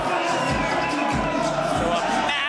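Loud, close crowd noise at a Muay Thai fight night, a dense babble of many voices with scattered cheers that holds steady throughout.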